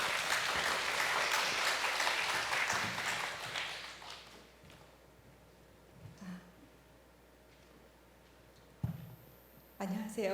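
Congregation applause at a Friday prayer meeting in a church, dense and loud for the first few seconds, then thinning into scattered claps and room noise with a few isolated taps near the end.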